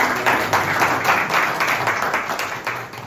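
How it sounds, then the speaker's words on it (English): Loud, close audience applause with distinct individual claps bursting in uneven pulses, a lively crowd clapping together for a presenter. "Please, a round of applause for him."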